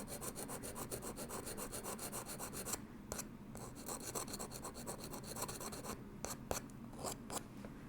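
Enamel is scraped off silver with a narrow hand tool, a steady close rhythmic rasping of quick repeated strokes with a few brief pauses, quiet and with no voices.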